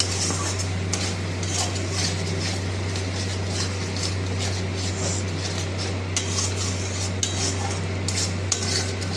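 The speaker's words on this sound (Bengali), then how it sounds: "এবার মশলাটা কষিয়ে নিচ্ছি।" Spice paste with cumin powder and a little sugar is sautéed and stirred in a pan for a jackfruit curry with goat fat, giving a soft sizzle under repeated scraping and clinks of a spoon, over a steady low hum.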